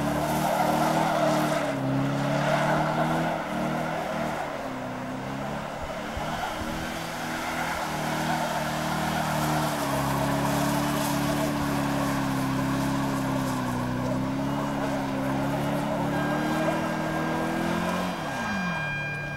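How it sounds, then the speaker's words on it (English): Car tyres shredding in a pit lane burnout at a Melbourne car show, a loud sustained squeal over a revving engine that holds steady for most of the run before the revs drop near the end. "listen to the tyre shredding going on there"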